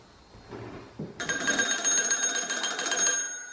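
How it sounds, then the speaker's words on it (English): A bright, rapid electronic bell rings continuously after a short stretch of low rumbling, loud and close like a telephone or alarm bell, with no voices. "Answer the phone, Rachel."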